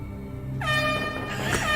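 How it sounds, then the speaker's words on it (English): A train horn in the video game Resident Evil 2 blares loudly, a sustained multi-tone honk that swells in after a low rumbling start and holds steady to the end. "So here's our cool train thing that makes that honking noise that I love so much."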